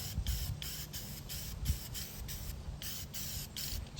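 A spray paint can hisses in a series of short, close bursts with brief pauses between them, each spray a bright airy rush, while painting an arcade cabinet yellow.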